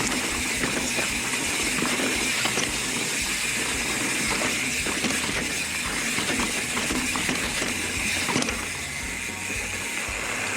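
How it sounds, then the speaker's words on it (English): A river rushes steadily beside a mountain bike trail, a dense continuous broadband wash of flowing water that stays even throughout with no talking. "you can probably hear the river on the side"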